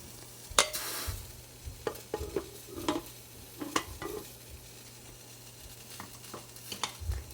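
Ragi flour roasting in ghee in a pan, stirred with repeated scraping strokes over a faint, quiet sizzle, irregular and close.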